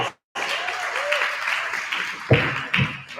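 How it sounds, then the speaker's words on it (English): Dense audience applause following the close of a debate on online anonymity, a brief gap of silence then sustained clapping with a couple of louder swells near the end. "Everyone, please give them another round of applause."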